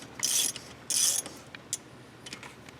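A ratchet snugs up bolts on the cylinder heads of a 2012 Chevy Silverado, giving two quick bursts of rapid clicking followed by a few light metallic ticks, close and moderately quiet.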